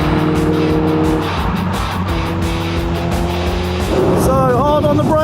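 Old budget Skoda car lapping a race track, its engine droning loud and close from inside the cabin as the revs climb, with a voice talking over it.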